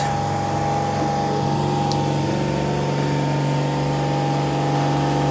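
A boat's watermaker pump, running while anchored, hums and whines continuously at close range, an even drone with no pauses.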